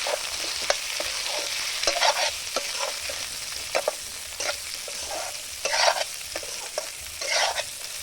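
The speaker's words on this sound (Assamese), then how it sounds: "আলুখিনি এতিয়া মই ভালদৰে ভাজি ল'ম।" Sliced potatoes fry with onions in a pan, a steady broadband sizzle running throughout, punctuated by repeated scraping stirs at irregular intervals, close and moderately loud with no talk.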